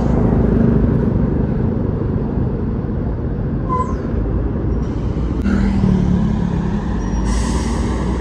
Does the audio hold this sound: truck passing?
yes